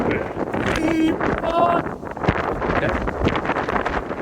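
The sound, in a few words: wind blowing on a mountain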